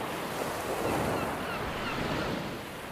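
Ocean surf washes steadily along a beach, a broad continuous roar of waves with some wind noise, no voices.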